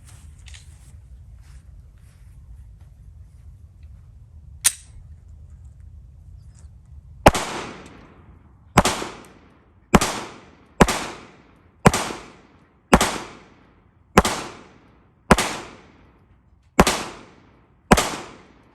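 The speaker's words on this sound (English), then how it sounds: "Let's go ahead and run another mag, 115 reloaded ammo, and see if it stays open after shooting last round." Lone Wolf Freedom Wolf pistol firing 115-grain reloaded ammunition outdoors: after a quiet stretch with one early shot, about ten sharp, loud reports follow in a steady, evenly spaced string, each ringing briefly before the next.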